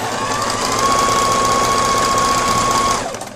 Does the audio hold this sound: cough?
no